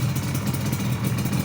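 A rebuilt Yamaha RD 350 LC two-stroke motorcycle engine idles close by, a steady, crisp, even burble with slight rhythmic pulsing and no revving.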